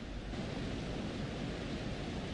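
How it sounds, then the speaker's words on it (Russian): Waterfall in the horror video game Until Dawn; a steady, low rushing roar of falling water, soft and even from start to finish with no other sounds over it. "Водопад, и он не замерзает?"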